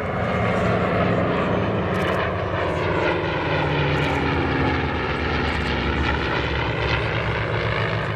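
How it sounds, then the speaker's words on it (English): A P-51D Mustang and an F4U-4 Corsair fly a pairs display at EAA AirVenture Oshkosh, their piston engines roaring loudly and steadily overhead with a throbbing propeller drone that shifts slightly in pitch as they pass. "This display sees a P-51D paired with an F4U-4 Corsair for an energetic and sophisticated pairs display."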